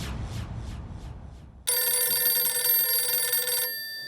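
A telephone ringing with a bright, steady electronic bell tone that starts abruptly and continues for about two seconds, following a brief stretch of soft rumbling background noise.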